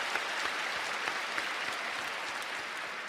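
A church congregation gives a steady, moderately loud round of applause after a performance by an arts mission troupe, dense clapping with no pauses.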